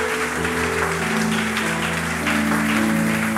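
A church congregation applauding and cheering in praise of the Lord, a dense continuous wash of clapping mixed with sustained music or organ tones, loud and steady throughout.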